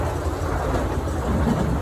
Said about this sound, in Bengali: বন জঙ্গলের মাঝ দিয়ে ট্রেন চলছে।